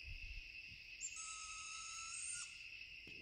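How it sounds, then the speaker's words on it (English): Owl calling at night in New York woods on the Appalachian Trail, one sustained whistled note held for over a second, fairly distant, set against a loud continuous drone of crickets. "It's definitely some sort of owl."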